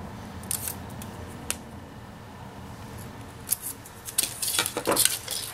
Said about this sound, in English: you just cut them down